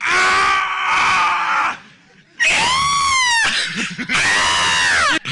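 A person imitating a raptor, letting out two long shrill screeching cries separated by a short pause, harsh and wavering with rising and falling pitch, loud and close.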